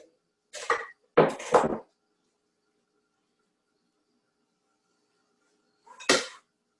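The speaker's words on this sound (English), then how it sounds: "So that's 1/4 of an onion. And she's just slicing it up." Knife slicing through a quarter of an onion on a board, three short crisp cuts in quick succession, a pause of several seconds of silence, then one more close, distinct cut.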